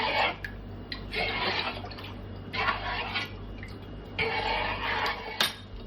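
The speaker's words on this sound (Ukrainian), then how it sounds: "Тому ми добре перемішуємо, ретельненько." A spoon stirs a homemade orange juice drink in a glass or jug, giving repeated liquid swishes and light clinks in bursts, close and moderately loud.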